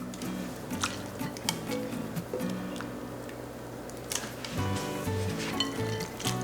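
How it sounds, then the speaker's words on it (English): Cooked noodles being moved into a bowl of ice water while making cold perilla pesto pasta, heard as scattered clinks, light splashes and wet squishy handling close to the microphone, with no voices. "a cold bath to transfer the noodles once they're done cooking right into the bowl of ice cold water"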